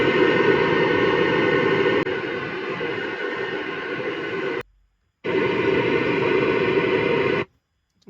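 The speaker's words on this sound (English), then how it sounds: "I'm just going to try some correlated pink noise" A correlated pink noise test signal hisses steadily and broadband, cutting out briefly twice with abrupt starts and stops, loud and even with no talk.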